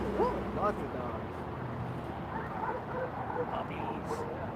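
Several dogs in a truck at a street protest in Portland whimper and give a few faint, high yips at a distance, set against a steady murmur of crowd noise and voices.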